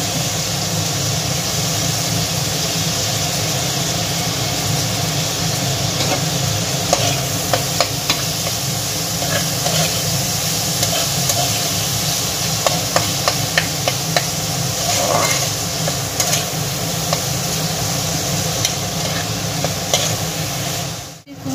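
Chopped onions fry with garlic and green chilli in a pan, giving a continuous close sizzle with scattered crackles and occasional stirring scrapes over a low background hum, steady throughout with no talk.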